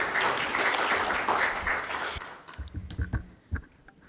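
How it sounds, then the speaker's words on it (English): An audience at a panel discussion applauds for a speaker, a dense, full burst of clapping that thins out after about two seconds into scattered last claps. "So please let's give a round warm of applause for the Honourable Tasmina Ahmed Sheikh."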